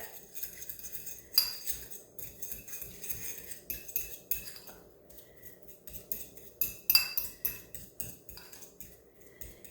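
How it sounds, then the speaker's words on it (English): A spoon stirring mayonnaise into deviled egg filling in a bowl, giving soft irregular clinks and scrapes against the dish, close and fairly quiet with brief pauses between strokes. "Then we're going to take our mayonnaise and just spoon that in and stir it up."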